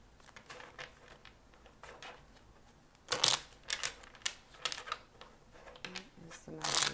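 A deck of cards being shuffled during a tarot reading, several quick riffling bursts with brief pauses between them, fairly quiet and close.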